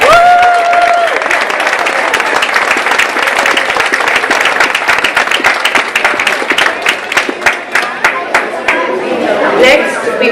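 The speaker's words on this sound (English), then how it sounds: "Give them another round of applause." Sustained audience applause at a Saba Day ceremony, a dense wash of many hands clapping with crowd chatter underneath, thinning into scattered individual claps toward the end.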